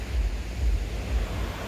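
Waves wash up a secluded beach shore at high tide, a continuous low surf roar that swells and recedes, with some wind buffeting the microphone and no voices.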